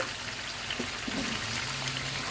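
Potatoes go into hot oil in a pot of braised meat, giving a steady soft sizzle and crackle with a few faint pops, close and without talking.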